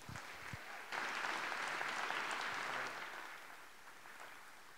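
Audience applause greets guest historian Niall Ferguson at an evening talk, starting abruptly after a couple of soft knocks, holding full and steady for about two seconds, then thinning and fading out.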